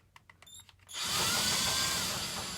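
A few light clicks, then an electric drill whirs up, spinning a 1947 GMC speedometer cable chucked in it, at a high, even whine until the end.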